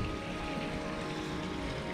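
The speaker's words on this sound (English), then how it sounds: "It also has a nice little waterfall feature there." Small waterfall feature spilling into a backyard pool, a continuous soft splashing wash heard nearby with no talking.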